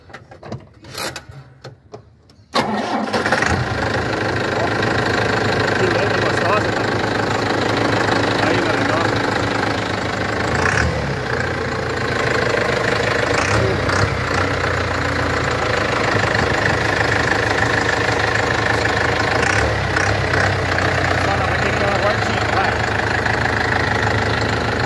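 The Chevrolet D20 Maxion engine in a 1949 Chevrolet 3100 pickup cranks briefly, catches, and settles into a loud, steady rumbling idle that continues with slight roughness throughout.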